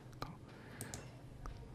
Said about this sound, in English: Just clicking the disable.